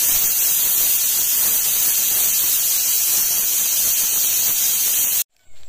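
A pressure cooker full of beef and mutton halim hisses in a loud, steady, bright jet of steam that runs unbroken for about five seconds before cutting off abruptly.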